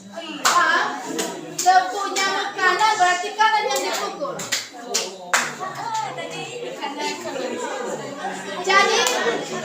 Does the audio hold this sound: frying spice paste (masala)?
no